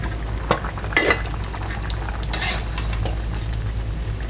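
Hilsa fish with its oil going into a simmering pumpkin curry, a soft bubbling bed under a few clinks and pot sounds, close and fairly quiet.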